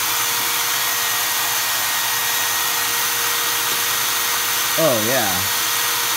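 A Milwaukee Gen 3 hammer drill clamped in a vise runs continuously with a steady high whine while its exhaust fan blows air; someone briefly speaks near the end.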